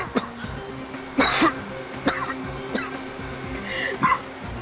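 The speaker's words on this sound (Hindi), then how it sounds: "उन्हें ऐसे ही खांसी आती है" A man coughs several times in short bursts, close and loud, with throat-clearing sounds between them in an indoor scene from a Hindi crime drama.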